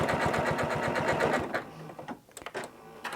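A Janome CM17 sewing machine stitching with a twin needle runs fast and rhythmic, close and loud, then stops abruptly, followed by a few scattered handling clicks.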